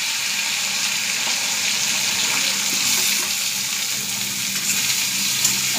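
Chopped onion and chillies fry in a pan for a tomato chutney, giving a dense, steady sizzle that holds at an even, fairly loud level throughout, close by with no talking.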